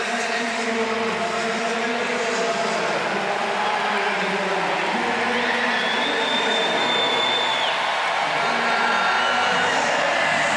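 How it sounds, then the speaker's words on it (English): A packed crowd cheers loudly and continuously for Mexican swimmer Karina Hernandez during a Paris 2024 Paralympic swimming heat, a steady roar of voices with a brief whistle partway through. "the crowd very enthusiastically getting behind the Mexican swimmer"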